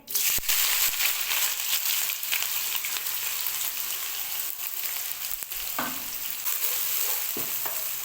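Chopped onions frying in hot oil in a kadai, a steady close sizzle with crackling and occasional stirring scrapes throughout.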